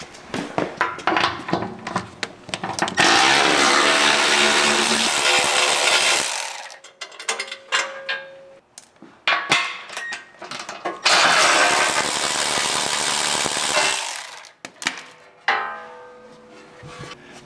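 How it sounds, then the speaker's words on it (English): Wrench working bolts loose on a steel skid plate under a Jeep JL Wrangler Rubicon, with two long loud bursts of rapid ratcheting clicks broken up by scattered metallic taps and clanks, close by and with no talk. "we're going to use a 13mm wrench to get these off"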